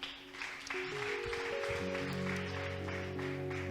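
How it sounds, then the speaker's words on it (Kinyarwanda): A church congregation in Ntarama parish claps, a dense close patter of many hands blending with sustained musical notes that swell in partway through. "Uwo mwami umpera amashyi mu izina rya Yesu."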